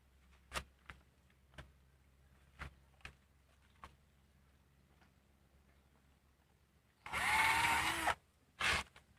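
A power drill bores into wood to build a pig pen door, a loud dense burst of about a second followed by a short second burst, after several sharp knocks spaced through a quiet stretch.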